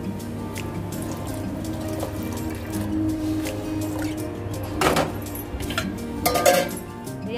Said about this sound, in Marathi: हे बघ, इथं चहा ठेवला होता उकळायला.